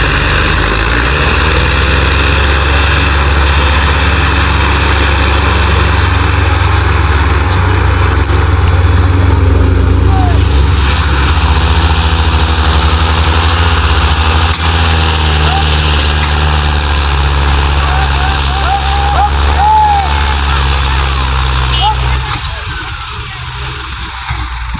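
A tractor engine runs loudly and steadily in a wet sugarcane field where the tractor has got stuck, a deep continuous drone that stays close and constant until it drops slightly near the end.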